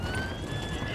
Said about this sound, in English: that's a runaway horse right there